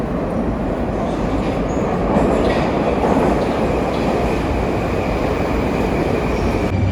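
A metro train rolls steadily between stations, a continuous loud rumble of wheels and carriage noise with faint rhythmic clacking and no talking.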